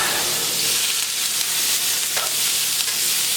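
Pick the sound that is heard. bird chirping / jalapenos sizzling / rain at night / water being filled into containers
jalapenos sizzling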